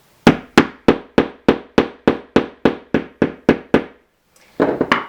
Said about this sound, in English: use your mallet and hit the anvil.